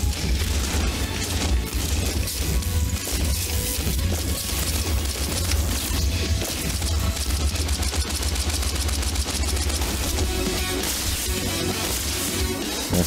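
Weapon fire in the futuristic roguelike game Critadel, a dense, continuous barrage of rapid shots and blasts over a heavy low rumble and game music, steady and loud throughout.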